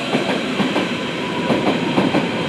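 A train pulls into platform 2 at Berlin Wannsee station, rumbling loudly with rhythmic clickety-clack from the wheels on the rail joints, close by and without voices.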